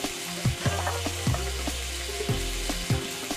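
Mixture frying and sizzling in a pan while being stirred with salt and pepper, with a steady hiss broken by regular scraping strokes and a low hum underneath; no talking.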